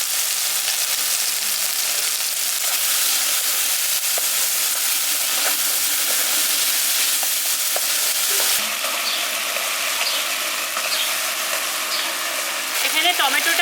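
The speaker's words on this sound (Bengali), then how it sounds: "এখানে টমেটোটা আর আদা রসুনটা ভালো মতো কষিয়ে নিয়েছি" Tomatoes with a little salt, ginger and garlic fry in a pan for a village-style prawn biryani, giving a loud, continuous, hissing sizzle with occasional stirring scrapes.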